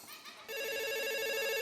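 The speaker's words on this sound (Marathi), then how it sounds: "फोन वाजतोय" A telephone rings loudly and steadily after a brief quieter moment at the start, its electronic ringtone repeating with no voices over it.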